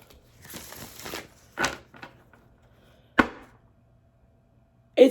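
Tarot cards are shuffled and handled in a few separate bursts of riffling and flicking, then sharp single slaps of cards set down, close and quiet with silence between.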